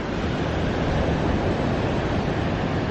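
Choppy open sea water, a dense continuous wash of small waves and wind noise, close and steady with no voices.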